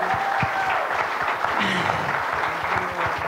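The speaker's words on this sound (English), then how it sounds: "give the Lord a hand clap of praise" A church congregation claps their hands together in a dense, sustained round of applause, with voices rising faintly beneath the clapping.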